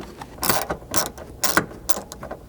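A Ford Bronco Sport plastic trim panel is pressed onto the vehicle body and snapped into place, giving four or five sharp, close ratcheting clicks and snaps in quick succession.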